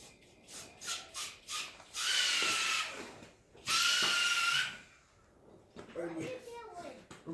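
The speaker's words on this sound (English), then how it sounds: "Stick your compressor wand in there." An air compressor wand blows air into a red fox skin during skinning: two hissing blasts of a second or so each, close and loud, with a person talking before, between and after them.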